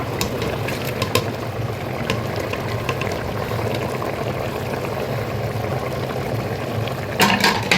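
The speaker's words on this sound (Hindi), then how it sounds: "इस टाइम पे हम अब अपनी कलेजी ऐड कर देते हैं साथ ही ना" Mutton liver goes into a pot of simmering mutton, giving a steady close bubbling and sizzling that runs throughout, with a brief clatter near the end.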